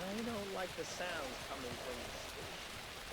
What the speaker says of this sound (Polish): Dźwięk jest, że pada deszcz,